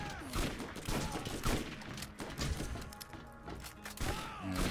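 Rapid SMG gunfire rattles in Borderlands, bursts of close, punchy shots with thuds and impacts mixed in, fading and returning in uneven clusters.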